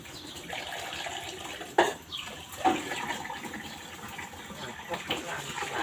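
Bowls are rinsed under a running tap: a steady soft hiss of water broken by a couple of sharp clinks of dishware, with faint voices in the background.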